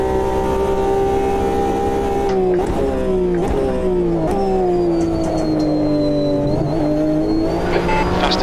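A GTE race car in the Automobilista 2 sim revs high through the gears, its engine note climbing and dropping with sharp upshift breaks, loud and continuous with brief tire squeal.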